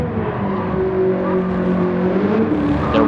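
Garage 56 NASCAR Camaro ZL1 engine in a racing video game, loud and close, a continuous droning growl with shifting tones as it downshifts into second gear through a chicane.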